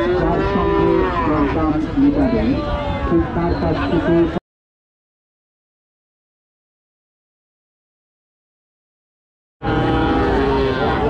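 Cattle at Panbibi market, a livestock haat selling bulls, heifers and cows, low mooing amid busy crowd voices and people talking, broken by a silent gap before the noise returns.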